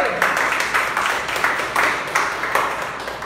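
A church congregation applauds during a sermon, a steady run of rhythmic handclaps in even bursts filling the room for a few seconds.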